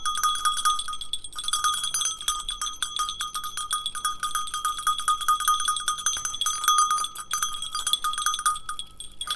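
Many small bells clank and jingle continuously, a dense metallic ringing like cowbells on a moving herd, steady and fairly close.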